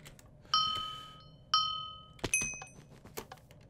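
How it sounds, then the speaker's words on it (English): A short chime rings from a mobile phone, sounding twice in quick succession with clear ringing tails and then a brief third higher tone, heard alone with no talking in a quiet room. "My phone just went vroom"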